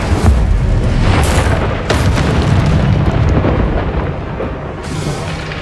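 Incendio fire spells cast in Hogwarts Legacy: a loud, continuous booming roar of bursting flame, with sharper blasts flaring up at intervals.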